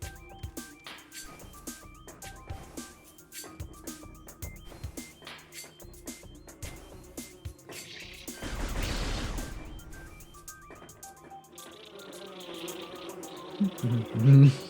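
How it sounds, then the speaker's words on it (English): A swarm of wasps drones in Metroid Prime Remastered, a thin insect buzz running steadily under rapid clicking game effects, with a louder rushing burst in the middle and denser buzzing toward the end. "Just ignore the wasps."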